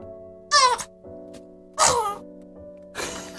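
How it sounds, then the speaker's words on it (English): A baby sneezes in a close, loud burst, with a smaller sneeze-like puff before it and another after it. A steady hum sits underneath. "Waiting for the sneeze. The attempted sneeze."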